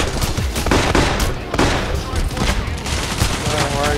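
Dense, sustained gunfire from Payday The Heist, a steady fusillade of overlapping shots lasting the whole stretch, loud and close with voices talking underneath.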